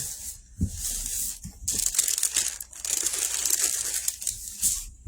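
Sheets of paper are pulled up and smoothed flat by hand, giving repeated bursts of crinkling and rustling with short pauses between, close and fairly loud, with no talking.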